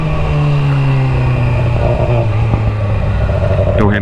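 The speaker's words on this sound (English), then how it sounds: "I'm so good at downshifting." A motorcycle engine drones loud and close while riding, its pitch stepping down as the rider downshifts.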